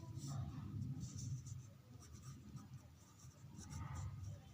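A pen scratches across paper in quick strokes while a math problem is written out, quiet and close, heard under a person explaining in Hindi.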